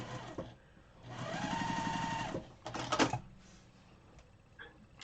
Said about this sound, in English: I'm going to sew a scant 1/4 of an inch